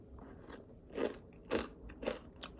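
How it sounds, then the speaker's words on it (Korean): Crunchy granola with a sprinkled topping is bitten and chewed close up, giving about five crisp crunches at a loose, uneven rhythm against near silence. "그래놀라에 뿌리니까 약간 이상하긴 한데 뿌려서 먹어보겠습니다"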